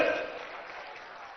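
Applause from a crowd at a political rally in Fatehpur Sikri: a broad wash of clapping that starts loud and slowly fades across the short stretch, with no clear voice on top.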